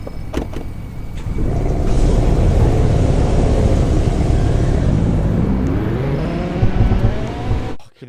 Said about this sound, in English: Hear that V10 screaming.